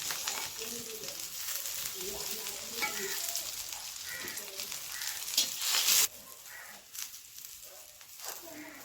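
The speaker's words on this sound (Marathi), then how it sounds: "तेल ऍड करून नंतर हे लसणाच्या पाकळ्या त्याच्यामध्ये ऍड करायच्या" Garlic cloves fry in oil over a wood-fired chulha stove, giving a quiet, steady sizzle with one brief louder crackle burst partway through.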